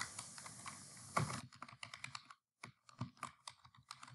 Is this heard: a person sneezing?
no